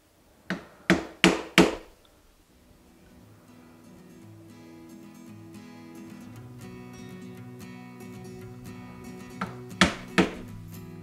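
A 9-4 wood carving gouge is struck into wood on a switch plate: a few sharp mallet taps, then quiet paring and a low hum, ending with two or three more close knocks.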